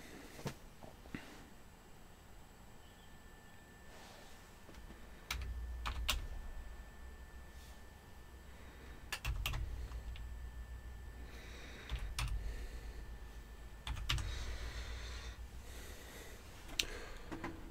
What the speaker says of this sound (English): I am just randomly typing stuff now somewhere.